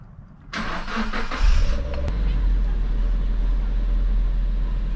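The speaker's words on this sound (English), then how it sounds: "Let's start the car." A Suzuki Jimny engine cranks with a brief whirring starter, catches, and settles into a steady, low idle that carries on close by.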